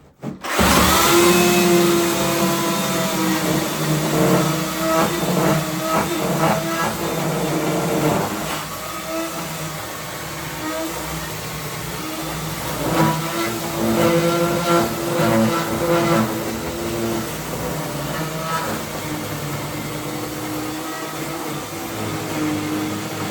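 A chainsaw rips lengthways along a board, a loud continuous close buzzing drone with the engine pitch dipping and rising as it bites into the wood over about twenty seconds.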